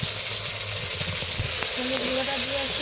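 Chopped tomato and turmeric powder frying and being stirred in a hot pan give a steady, close sizzle with soft scraping stir strokes and faint hiss throughout, and no one talks.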